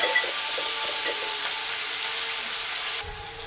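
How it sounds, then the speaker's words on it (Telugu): Onions frying in a pan for a bitter gourd curry give a steady, loud, dense sizzle that holds without a break, then drops slightly at the end. "ఉల్లిపాయ అయితే ఇలా వేయించుకోవాలి, ఇంకా కొద్దిగా వేగాలన్నమాట"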